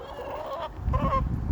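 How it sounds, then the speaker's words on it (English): Backyard chickens on a fall morning during farm chores, giving two loud, close honking calls one after the other with no talk. "Chickens are hanging out with me."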